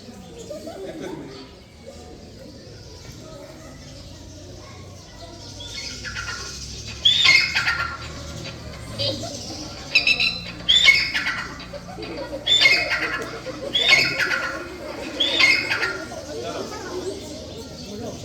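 A bird squawks in a repeated series of harsh calls, roughly evenly spaced, over a low background murmur of voices.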